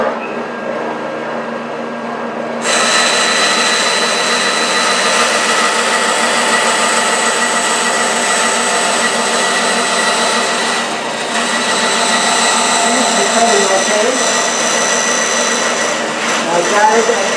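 A Sears Craftsman 14-inch band saw starts after a brief quieter lead-in and runs steadily with a bright, loud whirring hum, briefly dipping and then cutting with some fluctuation near the end; speech is faintly mixed in.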